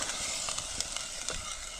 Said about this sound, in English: So I'm going to put water. like this. Then I'm going to stir it.